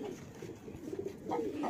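Soft, low cooing comes from pigeons kept for high flying, faint and close, with a slightly louder coo near the end over quiet background noise.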